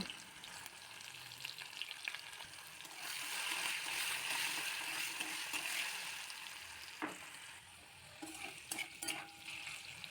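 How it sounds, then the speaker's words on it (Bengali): Potatoes frying in oil in a wok with salt and turmeric, a steady close sizzle that swells louder midway, with stirring scrapes and a few sharp clinks near the end. "লবণ হলুদ দিয়ে আলুটা হালকা করে ভেজে নেব।"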